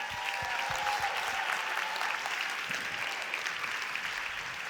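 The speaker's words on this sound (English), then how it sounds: "Let's give her a hand." Audience applause at a leadership retreat event, a steady dense wash of clapping from a crowd in a hall, sustained throughout without any speech.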